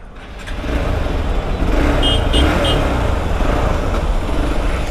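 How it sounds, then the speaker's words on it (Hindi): A Hero XPulse 200 4V motorcycle engine starts and settles into a steady idle, a low rumble rising after the first half second and holding close and fairly loud, with brief higher beeps near the middle. "तो चलो करते हैं गाड़ी को स्टार्ट"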